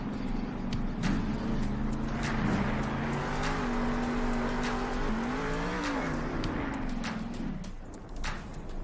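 Monster truck engine from the Monster Jam Steel Titans video game, a steady loud droning rumble with shifting pitch as it revs, mixed with tire noise throughout, close and continuous with no talk.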